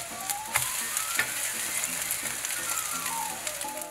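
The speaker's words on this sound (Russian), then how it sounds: "Обжариваем на растительном или топленом масле" Bran, cottage cheese and spinach pancakes sizzle steadily in vegetable oil or ghee in a frying pan, a close, dense crackling with occasional pops, while soft background music plays underneath.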